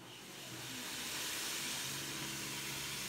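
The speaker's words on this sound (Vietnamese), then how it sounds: "chúng ta bắt đầu đổ vịt vào tao lên các bạn" Duck meat stir-fried in a pan for a Vietnamese dish of wild bamboo shoots, sizzling as a steady, bright hiss that swells over the first second and then holds, close and alone with no talk.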